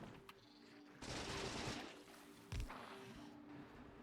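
Faint gunfire in Factorio, fired at enemies, comes as two bursts of rapid shots separated by quiet stretches with a low background hum.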